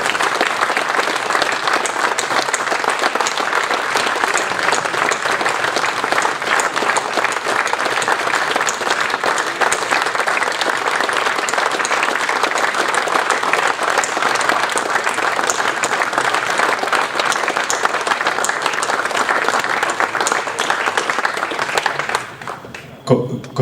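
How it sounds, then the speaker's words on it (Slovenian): A large audience gives a sustained, dense round of applause for an author at a book-launch talk in Gorica, steady and loud for over twenty seconds before tapering off abruptly at the end. "mislim, da si zasluži en velik aplavz."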